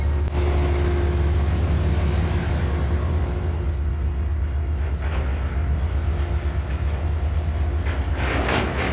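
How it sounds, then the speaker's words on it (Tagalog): An Amtrak Lake Shore Limited train reverses into a station, rumbling loudly nearby with a continuous low mechanical drone, squealing wheels early on and clanking couplings toward the end. "paatras na bumabalik ang tren sa istasyon"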